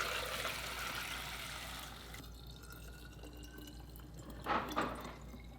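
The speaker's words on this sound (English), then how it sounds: "let's go ahead and strain off our water kefir." Water kefir strained through a strainer, liquid pouring and dripping steadily up close, with a couple of louder splashy drips near the end.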